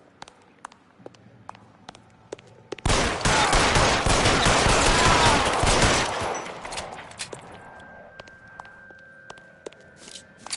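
Shotgun gunfire in the video game L.A. Noire: after a few soft clicks and footsteps, a loud, dense burst of shooting roars for about three seconds, then drops to a quieter tail.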